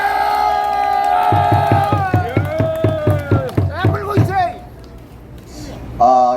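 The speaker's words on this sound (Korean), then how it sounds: "우리 손상대 MC 분께 한 번 힘내시라고 큰 박수 한번 해주시기 바랍니다." A crowd at an outdoor Korean political rally cheers and shouts together in a loud, swelling burst that rises and falls in waves before easing off, with a brief voice at the very end.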